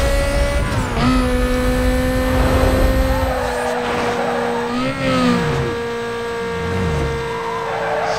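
Race car engine in Need for Speed: Most Wanted on PC, revving hard and loud with rising and falling pitch as it accelerates and shifts, steady close engine drone throughout the clip.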